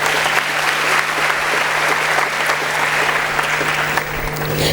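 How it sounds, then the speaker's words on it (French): Sustained applause from a seated audience fills the room, a dense, steady clatter of many hands clapping at a fairly loud level from start to finish. "Ça mérite des applaudissements"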